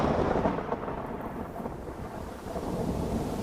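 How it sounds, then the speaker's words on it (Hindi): Thunderstorm with rolling thunder and steady rain, a continuous dense low rumble and wash of noise that stays loud and even throughout, with no voices. "अब ये क्या यार, तूफान कहाँ से आ गया?"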